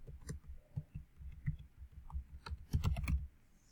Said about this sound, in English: I guess we'll type this out